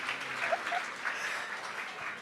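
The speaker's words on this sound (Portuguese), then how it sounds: "Uma salva de palmas para ele," Steady audience applause at a church gathering, a continuous, even wash of distant clapping without a clear start or end.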